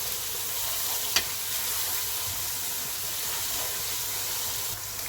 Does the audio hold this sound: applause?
no